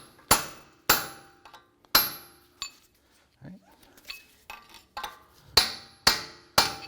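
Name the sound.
hammering a punch to drive out a CV axle shaft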